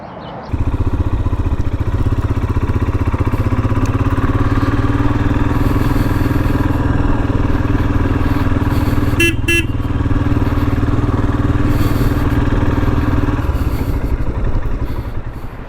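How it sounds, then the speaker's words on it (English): A Royal Enfield Himalayan motorcycle ridden to warm its engine oil: a steady, loud engine drone that holds for the whole ride, with a brief horn-like tonal burst near the middle and no talk. "take the Himalayan for a little ride to heat up the oil"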